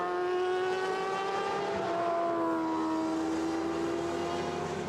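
Sidecar motorcycles race at Imatranajo 2022, a single engine screaming at high revs with a steady, slowly falling pitch as it passes, loud and continuous, with no talk over it.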